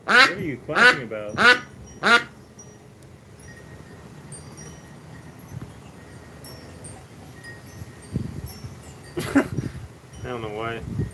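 Four loud, close duck quacks open in quick succession, then low background noise, a rustle and a brief squawk toward the end, with faint talk underneath.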